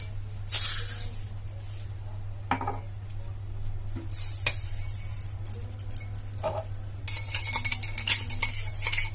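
Two cups of sugar poured into a metal pot for zalabia syrup in a home kitchen, a grainy hiss with scattered clinks of utensils and pot, close and moderately quiet.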